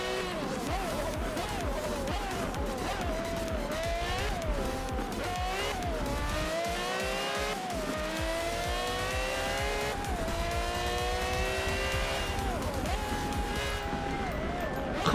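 A Porsche race car engine screams close up in the Forza 7 racing game, revving hard through rising and falling gear changes. Tire squeals and the sounds of other cars mix in throughout.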